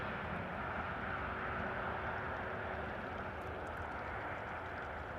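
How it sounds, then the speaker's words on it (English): Airbus A321neo airliner arriving from Paris onto the center runway at Amsterdam Schiphol, a steady broadband engine roar held at even loudness throughout, no voices. "A321neo arriving from Paris is going to the center runway"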